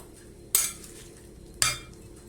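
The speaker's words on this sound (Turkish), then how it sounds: "Şöyle güzelce karıştıralım." Two sharp clinks of a utensil against a bowl come about a second apart while a sorrel and egg salad dressed with oil is stirred, near and fairly quiet over a faint background.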